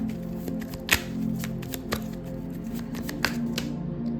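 Tarot cards being shuffled close by for a love reading, a dense papery riffle and slide that runs steadily with a few sharper snaps and taps, no voices over it.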